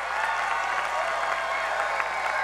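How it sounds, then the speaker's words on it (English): Loud, sustained applause from a commencement crowd at the CSUDH 2024 graduation forms a continuous, even roar of clapping with no pauses. "Loud applause"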